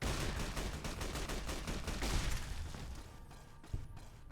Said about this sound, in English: Who's shooting at what over there?